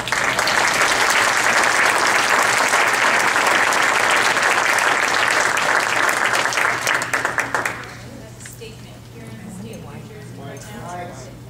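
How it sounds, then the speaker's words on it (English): An audience bursts into dense, loud applause for about seven seconds, then it drops off sharply, leaving a low steady hum, faint movement and a few distant sounds. "can I get just one more round of applause, please, for the people who let us be here today?"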